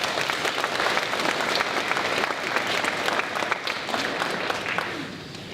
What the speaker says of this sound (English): you deserve a big round of applause for that